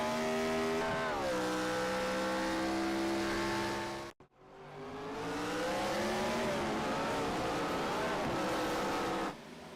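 A race car in a Darlington sim racing game loses grip under hard wheel spin, a loud sustained engine whine with pitch swoops, briefly cutting out mid-way before roaring back, close and continuous.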